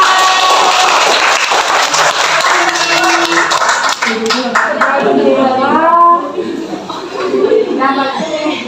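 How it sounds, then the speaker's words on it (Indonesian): Classroom clapping breaks out for a student who answered a biology question correctly, a short burst of hands from pupils under excited children's voices and a teacher talking, fading as speech takes over. "Yeay, tepuk tangan."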